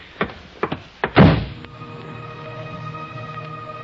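In a radio drama, a door gives a few knocks and thumps before a heavier clunk as it shuts firmly, then a low quiet room hum follows.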